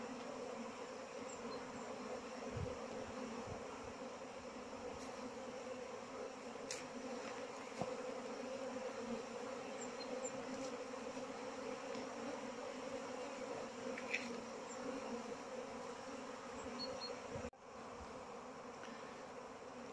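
Honeybees buzz around their hives on a spring day, a faint, continuous hum that holds steady throughout, with a few louder passes of single bees.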